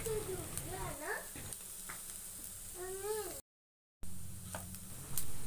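Mashed boiled potatoes are stirred into softened frying onions in a pan, a soft sizzle with scraping stirs, faint and close, with a brief gap, while someone talks over it.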